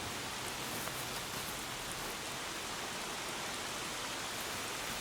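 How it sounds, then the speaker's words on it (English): Heavy rain pours without pause, a dense, even hiss of falling water that stays constant throughout, with no voices. "It rains non-stop for 6 days."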